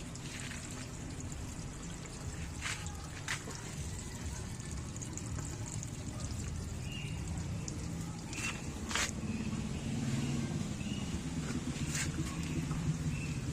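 Water draining from a single-tub washing machine after a drain valve spring rubber repair, a soft steady trickle and gurgle running throughout, with a few brief sharp clicks and knocks over it.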